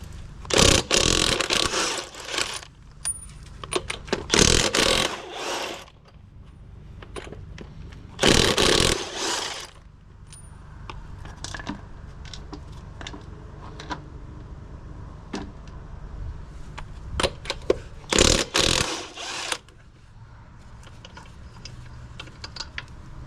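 A loud power tool, likely an impact wrench, removing a vehicle wheel in several separate long rattling bursts with quieter clanks and ticks between them.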